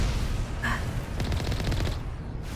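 Gunfire in the video game Mass Effect Legendary Edition, a rapid burst of repeated automatic shots over a constant low rumble of game ambience, with a short electronic chirp just before it.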